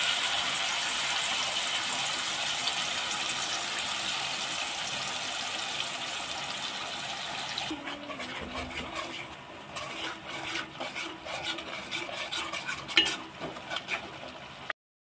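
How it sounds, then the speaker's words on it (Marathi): Ground spice paste sizzling and frying in hot oil in a pan, a steady loud hiss at first that drops midway into softer crackling with scattered scraping and stirring clatter, no voices. "आता जे आपण वाटण केलेलं आहे ते आपण तेलामध्ये ॲड करणार आहोत."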